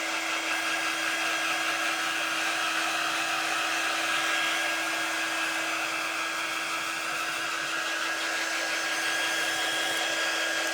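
A hair dryer blows steadily to dry paint on a Chalk Couture Christmas tree craft project while the piece is spun on its base, a close, constant whirring hum lasting throughout with no talking.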